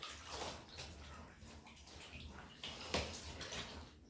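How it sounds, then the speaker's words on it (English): A crochet granny square swished gently around in a basin of water, making soft close sloshing and splashing sounds that swell and fade with a few sharper splashes. "Give it a gentle swish around, like so."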